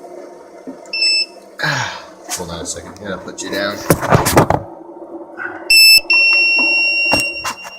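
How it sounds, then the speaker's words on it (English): A loud, piercing electronic battery alarm sounds in repeated long beeps, with a person talking and handling noises in between. "sorry about that terrible beep"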